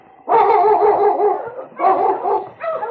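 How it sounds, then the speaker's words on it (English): Husky sled dog barking in an old radio drama, three loud close bursts of rapid, yelping barks with brief pauses between them. "Oh, King, hold your husky."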